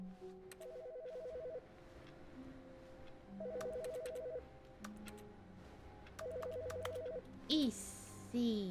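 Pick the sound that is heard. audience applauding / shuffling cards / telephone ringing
telephone ringing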